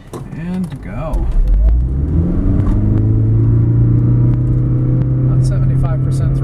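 A 2013 Toyota Prius plug-in hybrid pulls away uphill from a standstill, its engine rising into a loud, steady low rumble that continues to the end.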